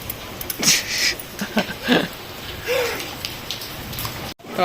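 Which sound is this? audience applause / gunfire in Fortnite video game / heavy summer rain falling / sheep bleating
heavy summer rain falling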